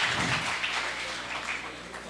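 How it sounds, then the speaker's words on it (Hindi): An audience at a 2025 Bait Bazi poetry competition in Aurangabad applauds the girls taking part, a soft, continuous wash of scattered clapping from a sizeable crowd that holds steady throughout. "तालियां बजाइए"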